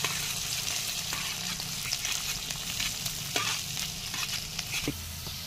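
Finely chopped onion frying in hot oil with cloves, cardamom and torn bay leaves, a steady loud sizzle with crackles and occasional sharp pops and stirring clatter throughout, no voices.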